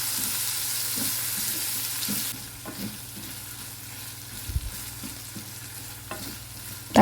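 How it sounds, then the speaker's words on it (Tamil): Tomato sautéing with ginger garlic paste in a pan, stirred until it mashes: a bright sizzle fades after a couple of seconds into quieter frying, with scattered close spatula scrapes and taps and no voices. "தக்காளி சேர்த்துட்டு அது நல்லா மேஷ் ஆகிற வரைக்கும் வதக்கி விட்டுக்கலாம்"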